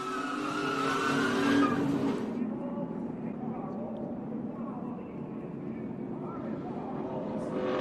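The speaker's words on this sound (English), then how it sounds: "Kane gets around, slides across the track." A blue number 5 Chevrolet NASCAR Sprint Cup race car goes sideways and slides across the track with a loud screech of tires and roaring engines, while commentary runs over it throughout.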